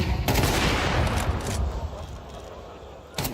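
Counter-Strike 2 gunfire during an esports match: rapid bursts of automatic rifle fire blend into a dense, continuous spray of shots, loud and close, with a commentator talking over it.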